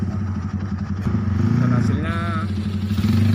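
A Honda Tiger motorcycle, fully rebuilt with an upgraded camshaft, idles with a steady, even engine drone, close by, while someone talks over it.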